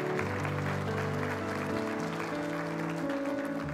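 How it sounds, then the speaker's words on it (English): A church congregation at a Sunday morning worship service applauds to welcome new members, a soft wash of clapping under sustained, held keyboard chords. "clap for them"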